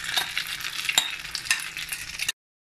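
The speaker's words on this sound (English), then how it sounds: "Evenly spread the mixture on the pan" Omelette mixture sizzles steadily in a hot pan while it is spread out, with scraping stir sounds and small crackles running for about two seconds before it cuts off abruptly.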